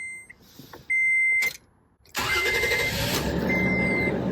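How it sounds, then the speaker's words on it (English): A Toyota Tacoma engine starts: a few soft beeps, a short burst of cranking, a brief pause, then the engine catches and settles into a steady close idle. "First of all, you're supposed to turn on your car."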